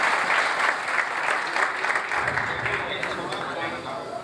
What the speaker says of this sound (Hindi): इनकी हौसला अफजाई के लिए तालियां बजा दें